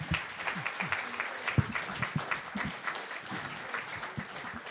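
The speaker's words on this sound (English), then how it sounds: "Round of applause for all the candidates," An audience at a PVA primary candidate night applauds the candidates, a moderate spread of individual claps with distinct hand strikes standing out over a steady patter.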